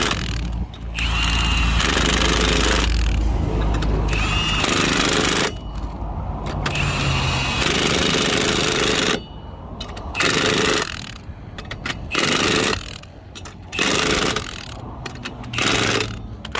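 Impact wrench working the lug nuts on a Coleman camper trailer wheel during a flat tire change, loud repeated bursts of whirring and hammering separated by short pauses, close up with no talking.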